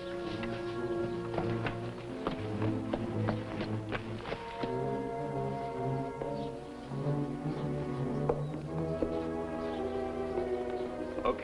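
Hooves clip-clop in a steady, close rhythm over a busy background with scattered birdsong, no talking.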